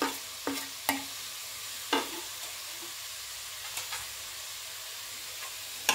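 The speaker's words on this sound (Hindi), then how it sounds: "अब हम इसे अच्छे से मिला लेते हैं।" A spoon stirs radish bhujiya with red chili, coriander and salt in a hot pan, a soft continuous sizzle broken by a few sharp scrapes and clinks, quiet and close with no talking.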